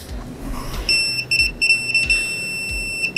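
A MOLLAR TW05-340D digital torque wrench, a 12-inch 340 Nm tool, sounds its buzzer at 100% torque: loud, close, high electronic beeps in a stuttering run that ends in a longer sustained tone.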